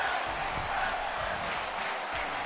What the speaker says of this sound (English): And the crowd is chanting for tag team wrestling.